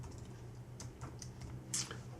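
Fingers type on a computer keyboard while an SQL INSERT statement is entered. The keys give quiet, uneven clicks in short bursts, with faint background hum.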